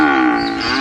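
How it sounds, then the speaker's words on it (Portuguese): A cow moos in one long, steady, drawn-out call that holds for the whole moment, loud and close with rich harmonics and no talking over it. "O mugido da vaca tem um som"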